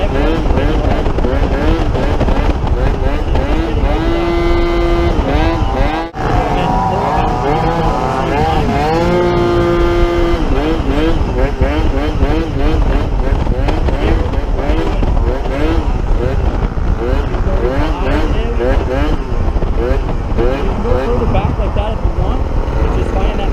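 Yamaha Zuma scooter with a CVT popping wheelies, its engine droning steadily and fairly loud throughout while someone talks over it.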